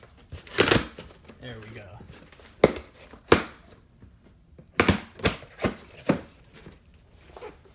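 Knife slicing through the seam of a cardboard shipping box holding new golf irons, a few sharp close scrapes and tearing bursts spaced out over several seconds, with someone talking between them.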